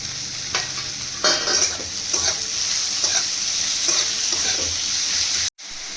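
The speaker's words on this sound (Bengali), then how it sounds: "পেঁয়াজ কুচিগুলো দিয়ে দেবো। ক্যাপসিকাম কুচি, কাঁচা লঙ্কা কুচি সব দিয়ে দেবো।" Chopped onion, capsicum and green chilli fry noisily in hot refined oil, a steady close sizzle with stirring scrapes and clatters throughout, cut by a brief silence near the end.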